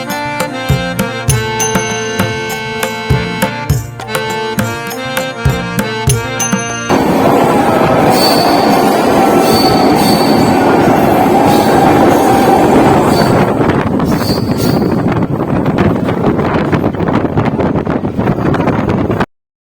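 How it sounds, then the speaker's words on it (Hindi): Indian Railways passenger train runs loudly and continuously, with rhythmic clatter of wheels over rail joints at first, then a dense roaring rush with wind buffeting, close and sustained. "अभी हमारी ट्रेन पहुंची है भोपाल जंक्शन पे"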